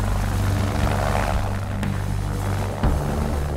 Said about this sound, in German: Der Helikopter der deutschen Luftrettung bringt die Motorradfahrerin in die Klinik nach Freiburg.